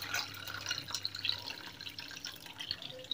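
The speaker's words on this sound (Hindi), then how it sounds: "ऐसे करके कम पानी बार बार 2-3 बार निकाल लेंगे" Soaked dahi bhalle being drained, with water pouring and dripping off them in small splashes and trickles, close by and fairly faint, no voices.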